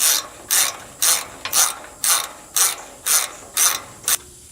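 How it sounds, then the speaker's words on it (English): Rhythmic ratchet clicks as two wrenches are worked at once to take a nut off on hay loader or brush hog farm equipment, about nine evenly spaced bursts, close and fairly loud with no talk. "If you use two wrenches like this, you can actually take the nut off faster by working both of them at the same time."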